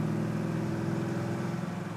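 A 1967 Chevrolet Chevelle SS engine pulls under load while driving, giving a steady, loud, low harmonic drone with a slight pulsing rhythm. No one speaks.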